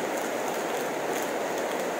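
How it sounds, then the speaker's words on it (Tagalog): Heavy rain pouring down in stormy, windy weather, a dense, steady roar of falling water close by with no pauses. "Sobrang lakas ng ulan, kala mo may bagyo at mahangin pa."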